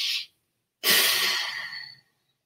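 A deep breath taken during a guided breathing exercise, heard alone: a short exhale-like puff, a pause, then one long, loud, airy inhalation that fades out over about a second.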